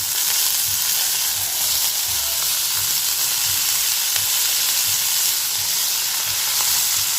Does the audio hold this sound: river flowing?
no